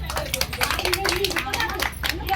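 A crowd of protesters at a long-running sit-in in Srinagar claps, producing rapid, dense hand claps heard close up, mixed with voices talking over them.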